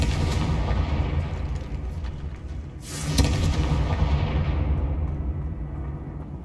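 In the Hogwarts Legacy video game, a Confringo fire spell detonates with a loud booming blast and bursts into a crackling explosion around the middle of the clip, with rumbling fire and ambient game sound before and after it.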